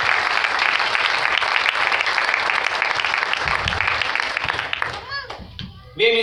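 A congregation in a church claps and applauds as an offering of praise, a dense sustained wash of many hands that fades out near the end, with voices and children audible underneath.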